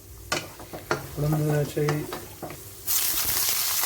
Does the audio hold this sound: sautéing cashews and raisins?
yes